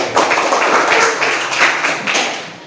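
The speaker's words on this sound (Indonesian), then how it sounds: "berikan tepuk tangan kepada ibu" A class in a physics lesson claps for their teacher, a brief burst of many hands applauding together at close range that fades out toward the end.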